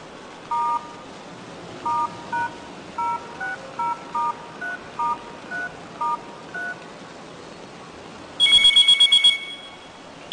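A telephone keypad beeps out a sequence of about a dozen short dialing tones at an even pace, followed by a brief ringing trill as the call connects.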